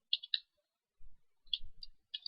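A few soft, sparse computer keyboard keystrokes in small clusters separated by quiet pauses, faint and close.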